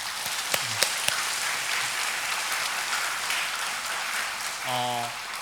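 Congregation applauding together in a church during a Thanksgiving Sunday service, a steady dense clapping that fills the room, with a brief voice heard near the end.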